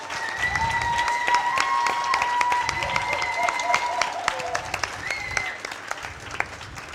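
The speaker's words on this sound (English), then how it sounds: "Give them a big applause." An audience applauds women's rights activists at a party marking an anniversary, with steady, dense clapping throughout and several voices faintly audible underneath.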